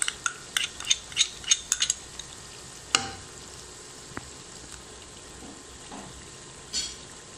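Onion paste and spices frying in a pan for beef kofta curry, a steady broadband sizzle with a quick run of sharp metallic scrapes and clinks early on, then a louder knock and quieter stirring.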